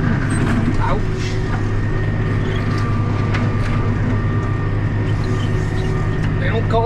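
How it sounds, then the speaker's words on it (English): A brush hog mower driven by a skid loader cuts through a pasture, a loud steady engine drone and rumble with brief thuds and crackles of brush being chopped. "They don't call this thing a brush hog for nothing."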